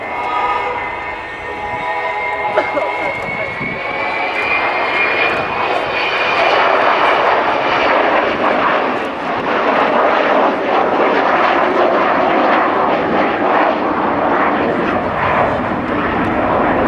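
An Avro Vulcan B2 bomber at the RIAT air show makes a loud, sustained jet roar that swells and holds for many seconds, with whining engine tones sliding across the rumble as it passes the crowd.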